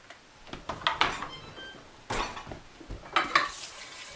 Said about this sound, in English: I'm doing the dishes for you